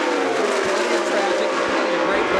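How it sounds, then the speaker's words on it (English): IndyCar race car engines at Texas Motor Speedway during the 1998 True Value 500 give a continuous, dense high-pitched drone, with a commentator talking over it. "Greg Ray, listen to the motor. It won't change too much pitch."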